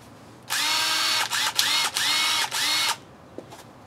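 A power drill whirs loudly in several bursts, with short dips where the trigger eases, then stops, followed by a small click.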